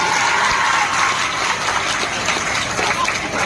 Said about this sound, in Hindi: सबसे पहले जितने लोग खड़े हैं उन सारे बॉयज के लिए तालियां बजाइए